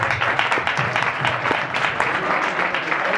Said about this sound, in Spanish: Un fuerte aplauso para...